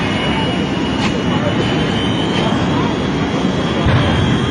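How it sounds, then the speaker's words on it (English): The three jet engines of the Shockwave jet truck run up with afterburners at the AirPower Over Hampton Roads air show in 2006. A loud, steady, broadband roar fills the scene while an announcer talks over it. "He's going to line up the afterburners on all three of those jet engines and get this truck going over 275"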